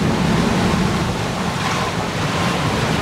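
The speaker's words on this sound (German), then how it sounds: "so anstrengend, die Wellen werden noch höher." Heavy ocean waves and strong wind roar continuously during a North Atlantic sailing crossing from the Azores to Portugal, loud broadband rushing with wind buffeting the microphone.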